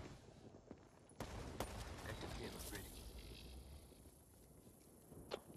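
Video game gunfight with bursts of rapid gunfire, a few sharp shots, then a quieter stretch, with voices talking over it.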